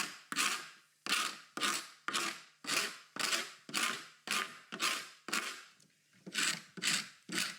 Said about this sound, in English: Now I'm going to go ahead and scrape this a little bit.